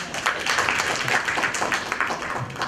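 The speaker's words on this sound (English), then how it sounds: "I think he deserves a bigger applause" Short burst of audience applause for a speaker on lab data and analytics at a talk; a brief, fairly even patter of many hands clapping.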